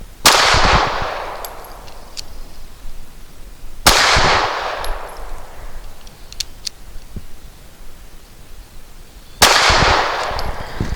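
A SCCY CPX-2 pistol firing Z Clean lead-free 100 grain rounds at a range: three loud, sharp shots spaced several seconds apart, each ringing out into a decaying echo, with faint clinks between them.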